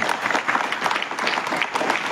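An audience claps for a Ganesh festival group, with a brisk, dense burst of applause lasting a couple of seconds and no voices over it.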